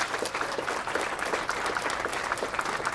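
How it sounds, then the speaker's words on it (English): A crowd at an outdoor Pride flag-raising ceremony claps steadily for county and city workers, a dense continuous round of applause heard at a moderate distance. "I want to give them a round of applause"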